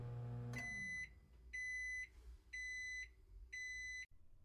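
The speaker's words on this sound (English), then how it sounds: "Yeah, there's that beep." A microwave oven beeps four times in steady succession, clear, evenly spaced electronic tones after a brief hum, heard close and alone.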